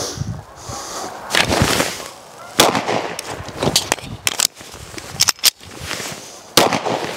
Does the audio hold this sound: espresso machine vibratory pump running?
no